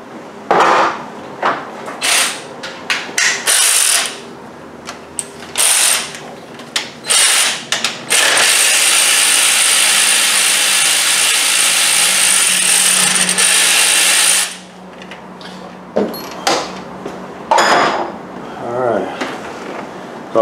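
A ratchet works bolts loose on the engine of a 2007 Range Rover 4.2 supercharged during a head gasket job, with bursts of ratcheting clicks and a longer spinning run, interrupted by pauses, close and loud.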